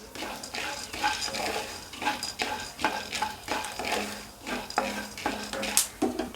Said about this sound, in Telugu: చూడండి, పేలటం స్టార్ట్ అయ్యింది.